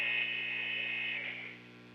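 Gym buzzer at a college basketball game sounds one long, steady, loud electronic tone that fades after about a second and a half, over low background hum.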